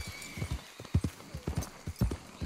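Horse hooves clip-clop in Red Dead Redemption 2, a steady run of heavy, close thuds in an uneven walking rhythm, with a faint snort or whinny mixed in.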